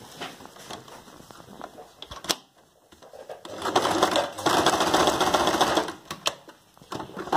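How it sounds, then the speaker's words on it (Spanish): Sewing machine stitching a backstitch on gathered curtain fabric, a steady whirring mechanical run that stops briefly midway then resumes louder and sustained, close by with no talk. "Entonces le hacemos el pespunte aquí."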